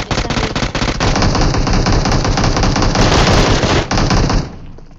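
Automatic-weapon fire in a BGMI or Apex Legends mobile match, with an M4 in use: loud, dense bursts of rapid gunshots running for several seconds before stopping abruptly.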